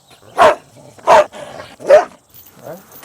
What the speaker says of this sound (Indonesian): Gonggongan si Doggy membuat Stanley penasaran untuk melihat apa yang ada di dalam gudang